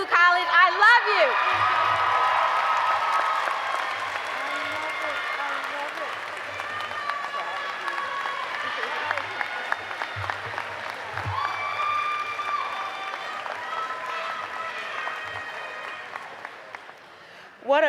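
Sustained applause at a Tougaloo College commencement, a large crowd clapping steadily with scattered whoops and cheers, loud at first and then slowly fading over about eighteen seconds.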